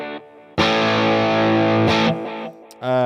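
An electric guitar run through a Headrush unit with a delay effect plays loud distorted sustained chords in short bursts, each followed by a quieter trailing repeat, with a brief gap before a final stab.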